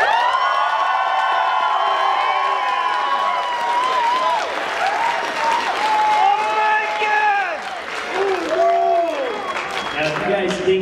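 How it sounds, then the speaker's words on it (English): Crowd of audience members cheering, whooping and clapping at a live show, a loud, continuous wash of shouts and applause with excited children's voices rising throughout. "let's hear your round of applause"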